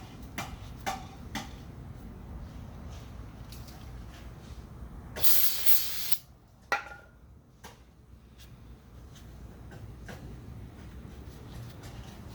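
Brake cleaner sprays from an aerosol can in one short, loud, close hiss lasting about a second, during a fuel pump install on a 1979 Ford F350, amid scattered ticks and clicks of work.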